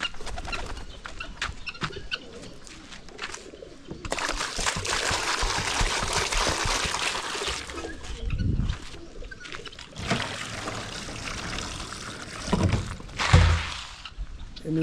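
Water is poured into a fishpond in two long, rushing, broadband bursts. Pigeons coo and flutter faintly in the background, and a voice briefly talks nearby.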